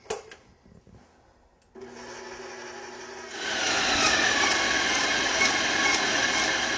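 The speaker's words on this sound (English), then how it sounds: "we're going to whip this to soft peaks" An electric mixer whips heavy cream and powdered sugar toward soft peaks for a coeur à la crème mousse. A quiet rattle comes first, then the motor whirs in, rising to a louder, steady buzzing whir up close.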